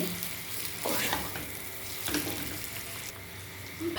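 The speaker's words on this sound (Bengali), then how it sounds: "এবার ভাজা পেঁয়াজটার সাথে মাটনটাকে কষাবো।" Mutton stir-fried with fried onions in a pan for Dhaba-style Shahi Kasha Mutton, a steady close sizzle with periodic scraping stirs, no talk.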